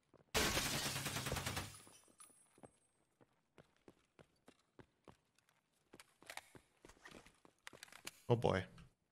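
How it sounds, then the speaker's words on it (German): A loud burst of shotgun fire in the shooter game Escape from Tarkov opens the clip, followed by scattered short thuds and footsteps, with one more sharp blast near the end and a voice speaking. "Diese scheiß Shotgun, ey."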